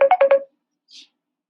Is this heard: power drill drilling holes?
no